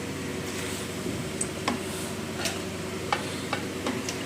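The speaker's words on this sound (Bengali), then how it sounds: "মুরগি দিয়ে মুরগিটা কষামো।" Chicken stirred and sautéed with cumin powder, bay leaf, garam masala, tomato and lemon in a pan for kabsa, giving a steady low sizzle with scattered scraping stir strokes, moderately close and without talk.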